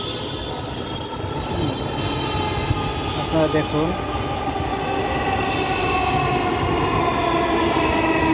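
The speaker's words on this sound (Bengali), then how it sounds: "ওই দেখুন, এখনই একটা মেট্রো রেল আসতেছে।" A metro rail train pulls into Shewrapara station with a loud, rising rumble and a brief wheel squeal, while someone talks over it throughout.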